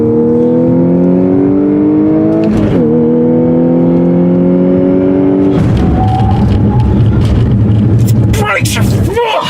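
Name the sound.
2014 Audi S4 Quattro accelerating on racetrack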